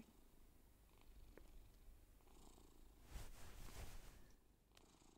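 A cat purrs softly and steadily at close range in the video game The Bridge Curse 2: The Extrication, a low rumbling drone that continues throughout with faint background noise.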